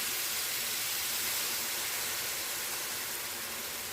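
Stock poured into a hot pan with tofu and broccoli, sending up a loud, steady broadband steaming hiss that holds without a break.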